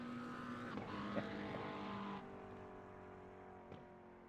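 A V8 race car engine in a racing simulator game drones with a steady tonal note, its pitch shifting slightly as it changes gear. The engine is faint and continuous and no one speaks.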